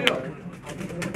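Pigeons cooing nearby, a soft, brief burst of bird calls with low murmuring voices in the background.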